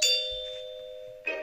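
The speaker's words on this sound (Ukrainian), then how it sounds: "Doorbell rings." A doorbell chimes with a clear, sustained ding that slowly rings out, followed by a second struck tone near the end, close and alone without talk.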